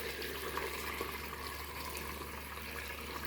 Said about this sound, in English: I am straining off my sorrel.